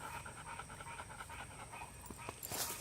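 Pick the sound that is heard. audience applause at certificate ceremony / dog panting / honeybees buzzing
dog panting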